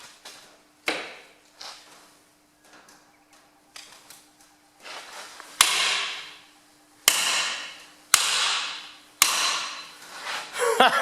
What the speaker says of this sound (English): I've got the big hammer. I'm just going to give that a couple of hits